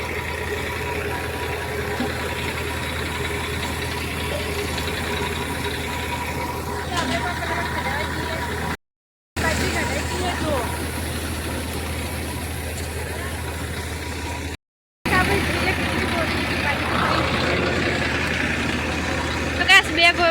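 A thresher runs on a farm, threshing pearl millet with a loud, steady mechanical drone and rumble that is briefly cut twice, while people talk over it.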